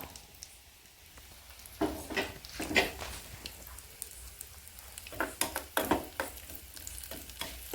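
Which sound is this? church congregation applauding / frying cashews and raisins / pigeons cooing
frying cashews and raisins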